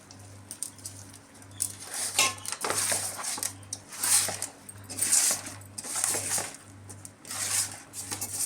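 Pond-fish pieces being mixed by hand in a metal dish with salt, chili powder and oil for a fish curry: a steady run of wet, rhythmic clinks and scrapes, fairly close, over a low constant hum.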